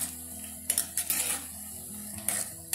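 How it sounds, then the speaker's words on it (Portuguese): Fries frying in a pressure cooker pot are stirred, a steady sizzle broken by several loud metallic scrapes and clanks of the utensil against the pot. "Eu vou mexer lentamente e vou pegar e dar uma mexida para elas ficarem douradas"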